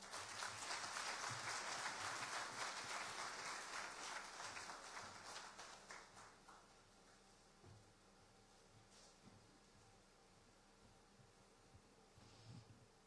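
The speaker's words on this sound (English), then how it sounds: "Shall we do one more big round of applause for him?" An audience applauds after a speech at the launch of a national credit score system. The clapping is dense and steady for about six seconds, then fades to a few scattered claps and quiet room noise.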